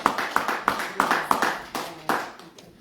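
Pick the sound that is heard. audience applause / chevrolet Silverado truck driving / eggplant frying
audience applause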